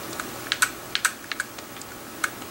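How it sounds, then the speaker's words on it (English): Someone presses keys on a computer keyboard while editing a font setting, about a dozen crisp, uneven keystrokes close by, with a couple of louder clacks standing out against a quiet room. "you want to delete that, so I'm just going to backspace"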